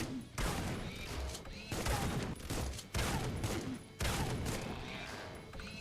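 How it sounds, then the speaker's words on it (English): Bursts of automatic shotgun fire in the Supplice shooter game, heavy booming blasts in quick clusters separated by brief pauses, loud and close with no talking. "Automatic shotgun, that's what it is."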